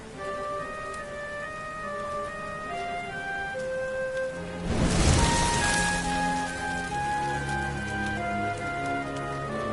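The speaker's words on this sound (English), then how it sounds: "Looks like the rain's dying down." Steady in-game rain in Dragon Quest XI falls evenly across the scene under a soft musical score, with a brief louder swell of broadband noise midway, then continues at a constant level.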